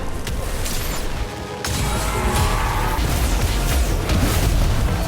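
A Bewitched Snowball spell landing in Harry Potter: Magic Awakened, a sudden crashing smash followed by a dense, booming rumble that stays loud to the end, with no talking.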